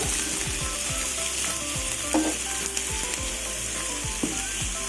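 Vegetables fry in plenty of oil with a steady, continuous sizzle, broken by a few scraping stirs of a spoon against the pan; close and fairly loud, with no voices.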